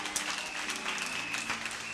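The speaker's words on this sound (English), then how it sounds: "Clap your hand and praise the Lord." Church congregation clapping hands in praise, a dense, continuous patter of many hands close by, steady and loud throughout with no clear pauses.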